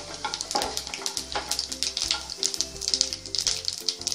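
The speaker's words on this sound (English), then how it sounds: "The oil is hot now. Add the cumin seeds." Cumin seeds sizzle in hot oil with a steady, close crackle broken by quick light pops, and no voices.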